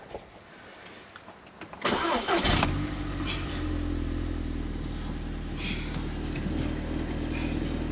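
A 2011-era Audi TTS Mk2 8J cranks briefly and fires up nearby, then settles into a steady low idle that continues to the end, with no one talking over it.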